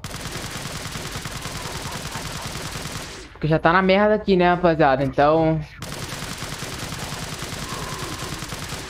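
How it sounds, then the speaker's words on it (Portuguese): Rapid bursts of TMP submachine gun fire in Resident Evil 4 crackle loudly for a few seconds, set between stretches of someone talking. "Agora eu vou dar vários tiros de TMP."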